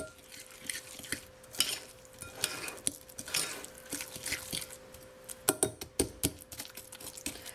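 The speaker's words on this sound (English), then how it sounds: "some of my cookies didn't break up in the blender, so I'm just hitting them with a fork" A fork taps and scrapes against a bowl while it breaks up Oreo cookie pieces in a filling, giving irregular close clinks and soft mashing sounds with no talk.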